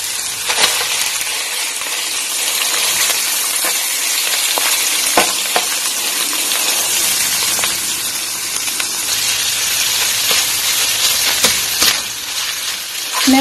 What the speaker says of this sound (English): we need to saute this so that you know the fat will come out, because this is ground pork